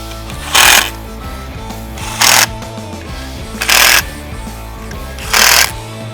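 Bolts being tightened on an ARB air compressor mount, heard as four short, loud mechanical bursts spaced about a second and a half apart, with a steady musical hum underneath.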